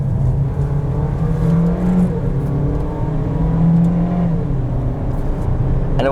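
A 2021 Chevrolet Trax LT AWD accelerates in manual mode from inside the cabin, its engine note rising steadily in pitch, then dropping at a gear change and climbing again.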